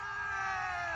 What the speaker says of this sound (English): Loud shout.